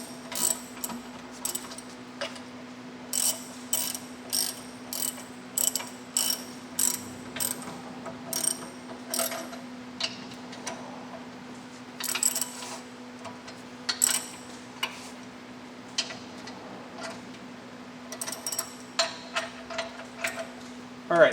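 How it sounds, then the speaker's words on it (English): Ratchet wrench clicking in repeated bursts while tightening bolts on a capture plate, close and crisp, the rapid pawl ticks coming in short runs with brief pauses over a steady low hum. "Now I'm going to go through one more time and tighten up these bolts just a little bit more."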